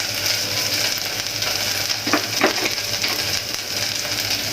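Onion and small shrimp frying in a pan with turmeric, for a radish greens and shrimp curry, give a steady, close sizzle with a couple of brief scraping stir sounds near the middle, and no talk.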